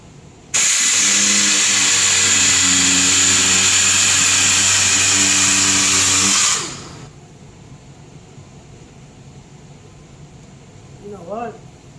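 A D8 sander fitted with 80 grit runs on the fender flares of a 2006 Mazda Speed 6, a loud, steady, close whir lasting about six seconds before cutting off into quiet room noise.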